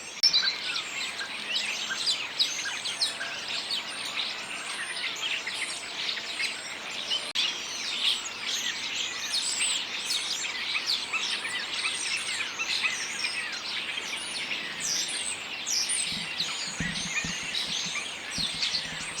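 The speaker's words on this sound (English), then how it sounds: "I don't know if you can hear all of the birds. There's loads of them up there." Many birds chirp and sing together in a garden in late autumn, a dense continuous chorus of high tweets heard from some distance, with a few faint low knocks near the end.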